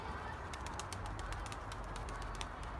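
A white male pigeon cooing softly in a loft, a few low repeated coos heard against steady background noise and faint chirps.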